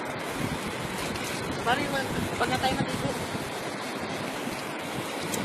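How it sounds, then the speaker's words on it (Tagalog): Big ocean waves surging and breaking close by in a steady broadband wash with wind noise, while someone talks over the surf. "malaki ang alon."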